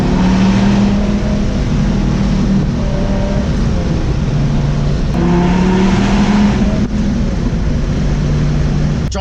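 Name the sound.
2004 Dodge Viper engine while driving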